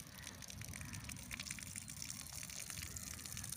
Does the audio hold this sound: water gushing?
yes